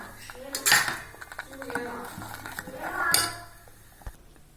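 Urad dal porridge with jaggery is stirred in a pot, with a utensil scraping and clinking against the metal in a few separate strokes, close and fairly quiet, with no talk.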